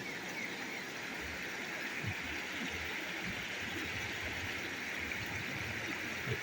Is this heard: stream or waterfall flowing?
yes